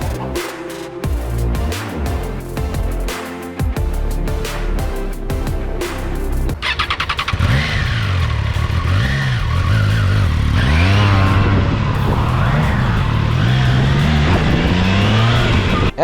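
A 2022 Triumph Tiger Sport 660 motorcycle rides along at close range, its engine note rising and falling through gear changes, loud throughout with rushing wind behind it.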